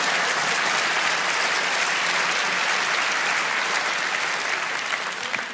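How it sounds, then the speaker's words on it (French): A theatre crowd breaks into dense, steady applause throughout, many hands clapping together at an even level with no voices over it. "Allez, applaudissez tous."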